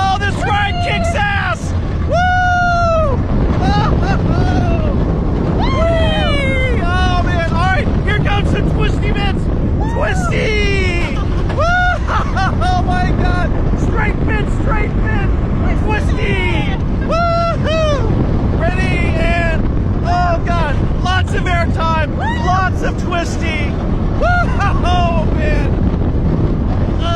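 Heavy wind roars steadily past the microphone throughout a ride on the Steel Curtain roller coaster at Kennywood, while riders shout and exclaim excitedly over the rush.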